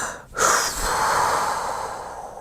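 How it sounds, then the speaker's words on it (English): A deep breath drawn in close to the mic, a sudden gasping inhale followed by a long, airy breathy hiss that slowly fades. "Shannon took a deep breath."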